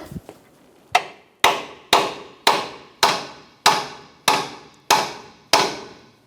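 A hammer seats a lower ball joint pivot on a 2007-2012 Nissan Versa with about nine sharp, close metallic strikes at a steady rhythm, each ringing briefly before the next.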